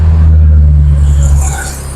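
A bus pulls away from the Rajekwesi terminal in Bojonegoro, a loud, close, low engine rumble that drops off in the last half second.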